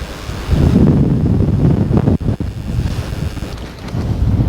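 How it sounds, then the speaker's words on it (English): Strong wind on Gardenstown Beach in Aberdeenshire buffets the microphone in loud, rumbling gusts, with a brief lull midway before the roaring picks up again. "the wind is like ripping across here"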